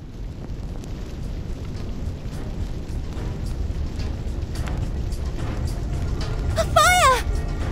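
A large fire blazes in Reverse: 1999 with a deep, steady roaring rumble that slowly grows louder. A bright, wavering tonal flourish rises briefly near the end.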